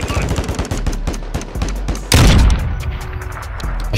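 Rapid gunfire in Modern Warfare 2 Search and Destroy, a dense series of sharp close shots with a louder heavy blast midway, followed by more scattered cracks.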